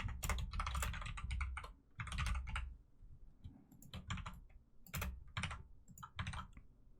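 Rapid typing of code on a computer keyboard, close bursts of crisp key clicks in several runs separated by short pauses.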